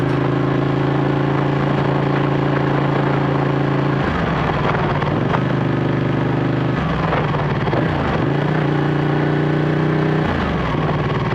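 Ducati 1199 Panigale motorcycle engine running loud and close, a steady throbbing idle broken by several sharp revs that rise and fall, with no talking over it.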